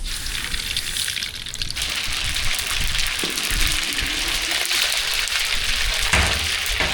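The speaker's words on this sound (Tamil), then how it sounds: "தயார் சாதம் தாளிக்கிறதுக்கு எண்ணெய் சுடாடிச்சு கடுகு சேர்த்துக்கலாம்" Mustard seeds sizzle and crackle in hot oil, tempering for curd rice. The dense, even spattering is steady and close throughout, with no talking.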